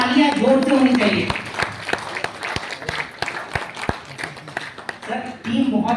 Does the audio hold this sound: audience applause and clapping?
yes